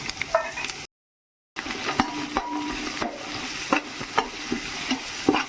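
Onions, carrot pieces, green chillies and curry leaves fry in ghee while being stirred, a close crackling sizzle with repeated scraping strokes of a spoon against the pan and one brief silent gap.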